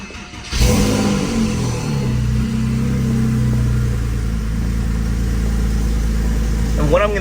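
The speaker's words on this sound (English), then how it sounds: "what I'm gonna do is let it idle a little bit." A car engine idles inside a garage after starting up, a loud, steady low rumble that holds even throughout, with a brief higher sweep near the end.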